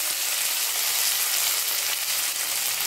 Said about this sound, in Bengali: কাজু বাদাম আর কিশমিশ। এগুলো আমি হালকা করে ভেজে তুলে রাখবো।